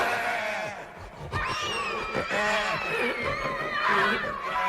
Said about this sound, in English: I don't know why a cuckoo clock with a bird that comes out of it is making a noise like a dying pig